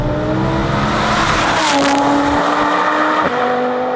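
An Audi R8 facelift with a 640 hp tuned V10 and Milltek exhaust accelerates hard using anti-lag. The engine roars loud and close with rising revs, broken by a sharp crackle and a brief dip near the end.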